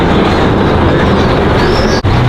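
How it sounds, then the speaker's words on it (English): The Santa Barbara Zoo's small train rumbles past close by in a loud, steady roar with a faint rising squeal, then cuts off briefly near the end. "the train goes right by this area of the zoo."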